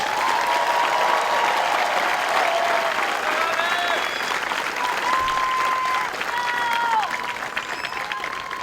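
Large crowd applauding USAF basic training graduates at a graduation ceremony, a long, even roar of clapping with scattered cheers and whistles rising above it, tapering slightly toward the end.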